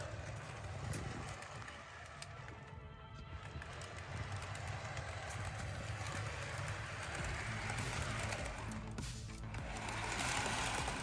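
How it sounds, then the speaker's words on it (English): An HO scale model train on a New Haven Railroad layout runs steadily along the track with a continuous whirring motor hum and rapid clicking of wheels, close by. "I'm gonna send the train down"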